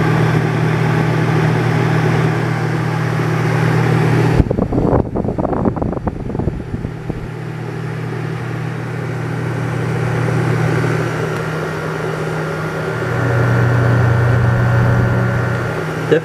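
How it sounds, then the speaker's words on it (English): Blower fan of a Cavalier Coke vending machine running during fan motor service, a loud steady whirring hum with rushing air, briefly disturbed by clattering handling noise before the hum settles again. "I'm sure you can hear the wind noise profoundly. That blower is quite effective."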